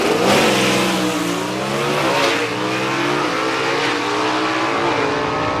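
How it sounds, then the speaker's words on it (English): Drag race car at a Carolina Dragway event in Aiken launching and accelerating hard down the strip, a loud, sustained engine roar with rising and shifting pitch filling the whole stretch, no talk over it. "Tim Hall just chops the tree down, does a great job getting that car down the racetrack"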